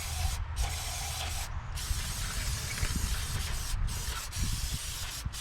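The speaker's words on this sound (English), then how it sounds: "I'm gonna spray this all really good with card cleaner now too." Aerosol card cleaner sprayed over a Firebird project car part in a garage, a steady close hiss with a few short bursts and pauses, no talking.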